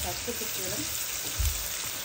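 Chopped onion for Thai-style meat fries in a pan with a steady close sizzle and hiss, a brief low thump near the end, no speech.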